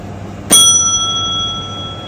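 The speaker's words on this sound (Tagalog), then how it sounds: "So, bell na natin." A bell rung once, a single bright ring that strikes sharply and then rings out with a sustained tone, fading over about a second against quiet background hum.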